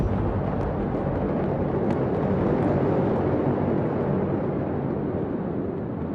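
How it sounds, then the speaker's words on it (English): A massive blast at the Beirut port warehouse storing ammonium nitrate, heard as a continuous, heavy low roar with a few faint crackles, steady and loud with no voices. "Then, the first big explosion."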